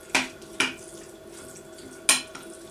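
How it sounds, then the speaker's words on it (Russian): A spoon stirring beet caviar in a bowl gives three sharp clinks against the dish, two close together and one after a short pause, over a quiet room. "И все размешиваем."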